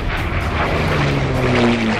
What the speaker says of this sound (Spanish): aviones de avistamiento registraban desde el cielo